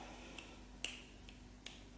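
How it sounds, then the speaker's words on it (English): Several dry finger snaps, one clearly sharper than the rest, spaced irregularly and heard close up against a quiet room with a faint steady hum. "I just tried so hard to snap my fingers"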